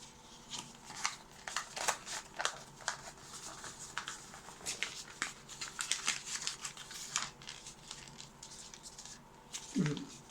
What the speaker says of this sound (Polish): owinę kieliszek z chusteczką